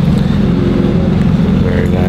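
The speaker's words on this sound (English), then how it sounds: "765 long tail. Ooh, yeah. Very nice noise coming out of that." McLaren 765LT supercar engine running loud and close with a steady low rumble throughout, amid a busy car show where a voice speaks over it.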